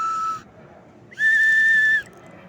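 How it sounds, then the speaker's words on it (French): A whistle is blown twice, first a short blast and then a longer, steadier one, both loud and shrill over a quiet background hum. "Et le sifflet, je les ai toujours."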